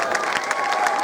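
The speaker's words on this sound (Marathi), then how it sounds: "याच्यासाठी टाळ्या होऊ द्या." Audience applause and cheering at a village primary school annual gathering, a brief dense patter of many hands with children's shouts mixed in.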